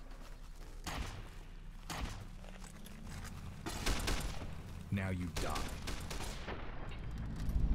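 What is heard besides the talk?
gunfire in video game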